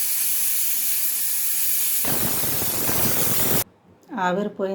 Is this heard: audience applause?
no